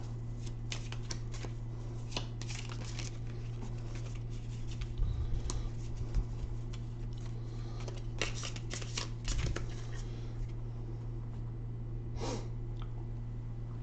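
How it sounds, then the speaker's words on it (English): A deck of cards is reshuffled during a tabletop wargame, a quick run of soft riffling and shuffling clatters over steady low hum, with no talking. "we got to reshuffle the cards"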